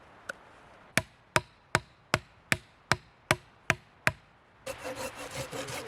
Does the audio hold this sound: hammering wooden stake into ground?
yes